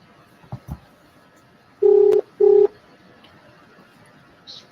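Two steady telephone dialing tones beep in quick succession on a quiet line, with faint clicks before and after.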